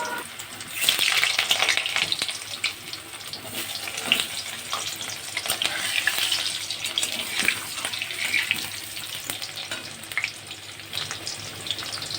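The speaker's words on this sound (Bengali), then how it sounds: "তো চলো, লাল লাল করে আগে প্রথমে আলুটা ভেজে নিই।" Potatoes fry in hot oil for a chicken curry, with a steady close sizzle and occasional stirring scrapes that rise and fall throughout.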